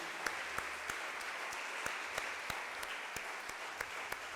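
A church congregation at a communion service claps together in soft, even applause, with a few sharper individual claps standing out at a moderate distance and no voices over it.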